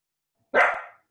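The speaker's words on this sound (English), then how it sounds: "Is my dog." A pet dog, a female, gives a single sharp, close bark that rings briefly and fades into silence.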